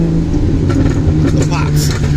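A Datsun 280ZX engine rumbles up close with a steady low drone and slight rises in revs, while someone talks over it.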